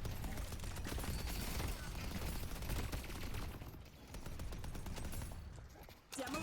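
Automated turrets fire in a video game, a loud continuous stream of rapid gunfire with mechanical rattling that briefly dips before resuming, while a voice speaks over it.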